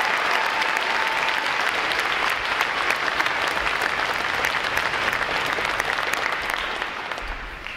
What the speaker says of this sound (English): how about another round of applause for our outstanding award recipients?